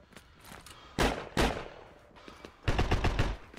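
Two sharp, loud gunshot bursts with a rapid flurry of shots near the end, electronic and punchy, over a low background hum, from the video game Heroes and Generals.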